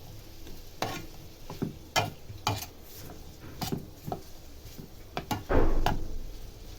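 Beetroot palya fries in oil while a spoon stirs it in a pan: a soft background sizzle broken by scattered scraping and knocking strokes, and one louder clatter near the end, no talk.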